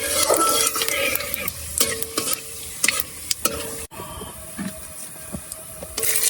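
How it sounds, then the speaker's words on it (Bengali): Bay leaf, whole cumin and dried chili frying in hot oil outdoors, crackling and sizzling loudly with sharp spattering pops and clinks of stirring throughout. "তেল গরম হয়ে গেছে, এবারে তেজপাতা, গোটা জিরা, দক্ষিণ দিকের লঙ্কাটা নেই শুকনো, এটা দিয়ে চালিয়ে দেবো।"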